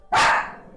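A dog in the Valkyria Revolution video game gives a single sharp, loud bark at close range, fading quickly into a short tail.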